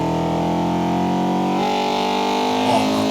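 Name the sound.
modified VTEC car engine in Forza Horizon 2 video game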